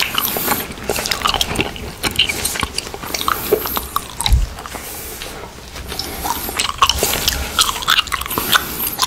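Giant watermelon bubble gum being chewed up close, with continuous wet, sticky smacking and crackling bites in an irregular rhythm, loud and intimate, with no talking.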